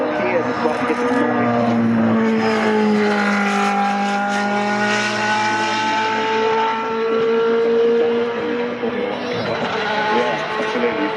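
An F1 car at a Goodwood demonstration passes with a loud, sustained engine note that rises and falls in pitch as it goes by, over crowd ambience.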